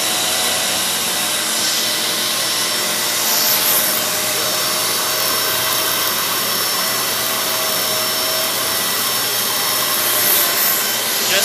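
A Kenmore 600 series bagless vacuum cleaner runs continuously at close range, a steady loud whine with a high motor tone and faint rubbing as it passes over a floor covered in dirt and hair.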